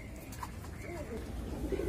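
A khaki pigeon held in the hand gives soft, low cooing notes, a few brief murmured calls that sit close and faint over quiet background noise.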